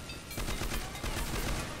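Rapid bursts of gunfire from a weapon in the video game Crossfire, loud and close, with dense repeated shots that start about a quarter second in and continue almost without a break.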